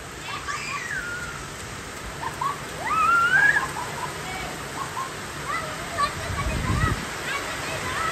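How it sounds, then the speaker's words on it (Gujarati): Heavy first rain of the season pours down steadily in Begiyasan village, a dense, constant hiss that runs through the whole stretch. Birds chirp and whistle above it, and voices come through faintly in the background. "ફૂલ વરસાદ બેગિયાસણમાં વરસાદ આવ્યો"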